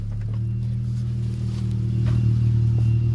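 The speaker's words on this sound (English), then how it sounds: "His wheel's locking up." A car with a wheel locking up while driving produces a steady, loud low droning hum with a grinding edge that swells slightly toward the end, heard close from inside the vehicle.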